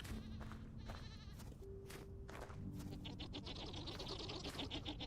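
Goats bleating repeatedly in Vintage Story, a modded hardcore survival game, several overlapping calls close by with faint footsteps, no talk.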